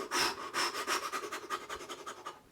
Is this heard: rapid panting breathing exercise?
yes